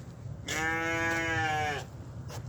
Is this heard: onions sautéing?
no